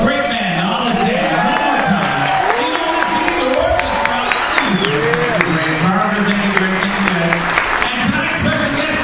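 A large crowd claps and cheers loudly throughout, with whoops rising over the dense applause while a voice talks over the top.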